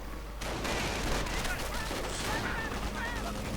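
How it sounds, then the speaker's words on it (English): Dense gunfire from a strafing run in a WWII real-time strategy battle, with continuous rattling bursts and explosive rumble filling the clip against a busy, noisy battlefield background. "And a strafing run."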